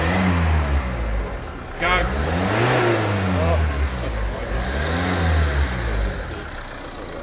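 A Land Rover Freelander 2 with an intermittent hesitation fault, under fuel-system testing, revs up and falls back twice, close and loud, with a brief spoken word.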